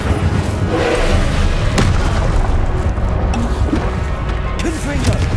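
A fire spell, Incendio, is cast in the video game Hogwarts Legacy, giving a loud booming burst amid continuous thumping combat noise and a busy game soundscape.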